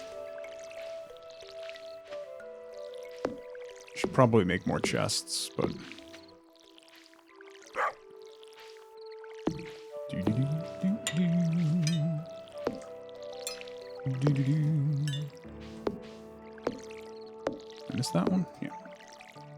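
Stardew Valley watering can on crops: several short splashing, sprinkling bursts spaced apart, set among game chimes and tones while a player chats over them.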